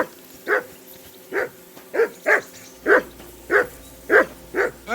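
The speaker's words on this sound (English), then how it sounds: "call off that dog and then we can talk" A dog barks repeatedly in the medieval role-playing game Kingdom Come: Deliverance 2, about nine sharp evenly spaced barks at moderate distance over quiet ambience with no talk.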